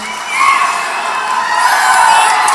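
A large crowd at an outdoor political rally in St. Augustine, Florida, cheers and shouts loudly and continuously, with high-pitched whoops rising above a dense roar.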